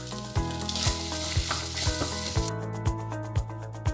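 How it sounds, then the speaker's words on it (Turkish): Vermicelli frying with tomato paste in a pot for minced-meat soup, a loud continuous sizzle punctuated by regular scraping stirs of a spoon about every half second. "Bir iki dakika kadar da şehrimizi kavurduktan sonra bir çorba kaşığı salçamızı ekleyelim."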